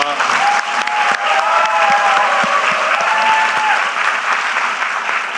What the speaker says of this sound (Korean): 박수로 더 크게 쳐주세요.